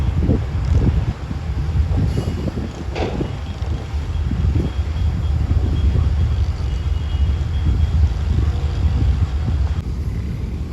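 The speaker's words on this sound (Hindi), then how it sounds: "RG 24 5211 डाउन कंटेनर ट्रेन के साथ लूप लाइन पर था, तो अब रवाना हो रही है यहाँ से" A container train pulls away from the loop line at Dabheji railway station, giving a low continuous rumble of rolling wagons, steady and fairly close, with wind buffeting the microphone throughout.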